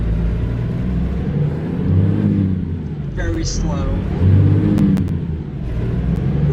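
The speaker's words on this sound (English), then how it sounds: "One reason I do like how this truck sounds." A Peterbilt 350 truck's engine in American Truck Simulator, a steady low rumble with slight swells that runs throughout beneath someone talking.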